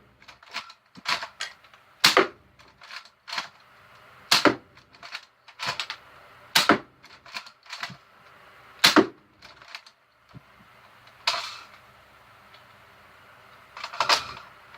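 Dart Zone Eagle foam blaster firing yellow foam darts, a series of sharp snapping shots at irregular intervals with quieter mechanical clicks and priming clacks between them, fairly close and without talk.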